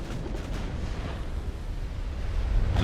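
Ship ammunition detonation in Ultimate Admiral: Dreadnoughts, a deep rumbling explosion that swells louder toward the end.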